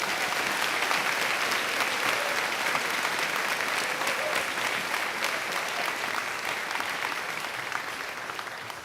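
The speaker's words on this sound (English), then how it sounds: "Let's give Mrs. Brown Thomas and our chorus one more round of applause." A large audience at a middle school graduation claps in sustained, even applause that slowly fades toward the end.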